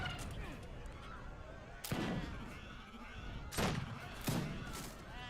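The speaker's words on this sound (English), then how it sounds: "I'm gonna shred with like machine gun Gatling camels right away." Rapid bursts of Gatling camel machine gun fire in Age of Empires 3 Wars of Liberty, three sharp volleys cutting through a dense battle din at about two, three and a half and four and a half seconds.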